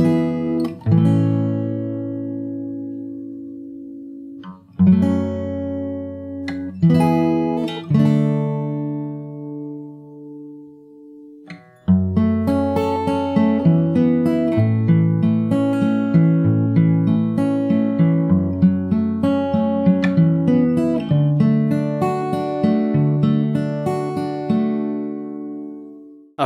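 Fingerstyle acoustic guitar plays the full intro of a song, starting with sparse ringing plucked chords and moving into a denser flowing picked pattern, close and solo with no talking.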